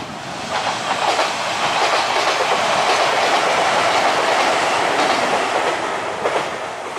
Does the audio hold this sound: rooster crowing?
no